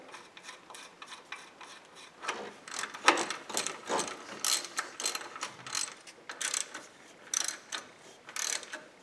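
Rapid ratchet clicking in quick bursts while tightening 2 9/16 bolts on a Jeep Cherokee water pump, steady close mechanical ticks with short pauses between runs, no voices.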